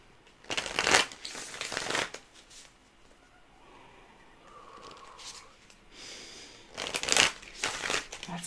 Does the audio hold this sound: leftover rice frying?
no